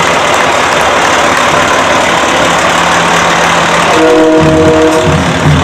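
A heavy rescue fire truck rolls past in a parade with a loud, constant engine rumble, and a sustained horn-like tone enters near the end.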